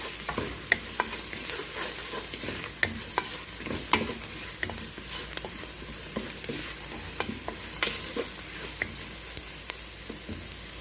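Spices being stirred into a potato and eggplant dish with chana dal frying in a pan: a steady broadband sizzle with repeated sharp scraping clicks of the spoon against the pan, close and continuous, without talk.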